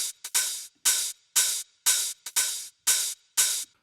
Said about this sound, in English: We got a lot of open hats in this song.